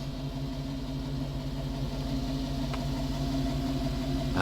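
A car fitted with a new single Y-pipe exhaust, its catalytic converters and smog pump removed, idles steadily up close, a low even rumble that grows slightly louder toward the end.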